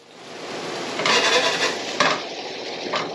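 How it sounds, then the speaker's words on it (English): Vegetables for jambalaya sautéing in a pan, a close sizzle that swells with a couple of stirring scrapes and a brief clatter against the pan. "You're really going to get these veggies nicely sauteed up."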